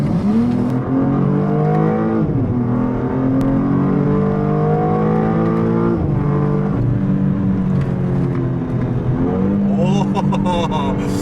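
A BMW M2 engine roars steadily as it accelerates, pitch climbing through gear shifts, loud and continuous with a brief dip partway through.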